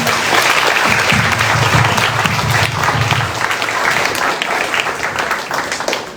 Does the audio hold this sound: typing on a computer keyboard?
no